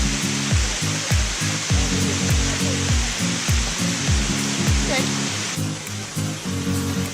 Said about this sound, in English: So this is the first waterfall you see, right when you're driving up the path.